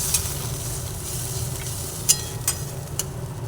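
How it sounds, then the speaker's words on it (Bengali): Mango curry is stirred in a pan just after water goes in, a soft bubbling sizzle broken by a few distinct spoon clinks and scrapes. "জল দিচ্ছি ভালোভাবে নাড়াচাড়া করে নিচ্ছি"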